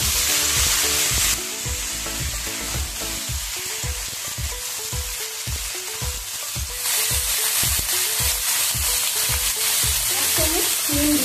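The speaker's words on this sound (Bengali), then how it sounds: "একটু নাড়াচাড়া করে এর মধ্যে কুমড়োটা দিয়ে দিলাম।" Raw pumpkin sizzles in hot oil in a pan while a spoon stirs it, with steady frying hiss under rhythmic scraping and knocking strokes that repeat throughout, close and loud.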